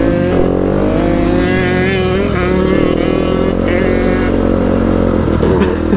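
An enduro motorcycle engine on a mountain trail in Valea Rea, Romania, ridden for the first time after five months, revs loud and close in rough, rising bursts with a steady growling undertone.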